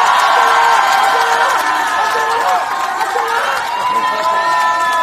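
A crowd at an outdoor election campaign rally in Daejeon cheering and whooping for candidates, a loud sustained roar of many voices with shouts rising over it and people talking throughout.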